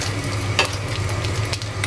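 A small egg fries in a mini kitchen pan, with a steady close hiss and crackle of sizzling oil and a couple of brief scrapes, no talking.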